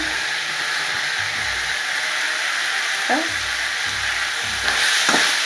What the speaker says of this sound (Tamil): தேங்காய் போட்டு கொஞ்சம் கிண்டு கிண்ணோடனே ரொம்ப வழங்கக்கூடாது